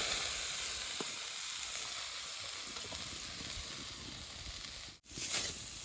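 Grated coconut fries in hot coconut oil in a steel bowl, giving a steady close sizzle and hiss with faint stirring scrapes. The sizzle breaks off briefly near the end.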